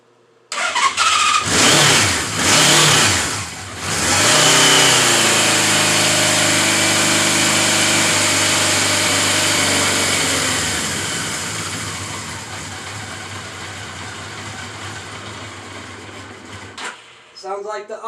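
A 1977 Suzuki GS550 four-cylinder motorcycle, fitted with new spark plugs and running on all four cylinders, starts and revs loudly up close, then settles into a steady, slightly low idle before shutting off.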